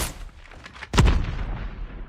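A single sharp sniper rifle shot in Call of Duty Mobile multiplayer, one loud crack with a short rumbling tail over quiet game ambience.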